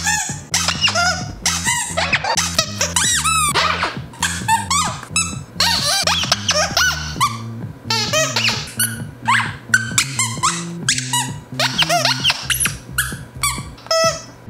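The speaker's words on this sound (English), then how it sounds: "Are we ready to squeak all the toys?" Dog squeaky toys are squeezed over and over, with sharp high squeaks in quick irregular bursts. A low thumping bed sits underneath, and there is no talking.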